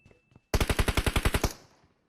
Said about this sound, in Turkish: Vur botları kardeş vur